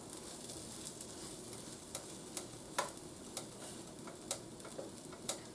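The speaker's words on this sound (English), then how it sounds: "Okay, see, it's toasting. I'm just moving this around so I get some of that butter on it." Banana pancake toasting in butter in a frying pan, a faint steady sizzle with occasional light ticks and scrapes as it is moved around.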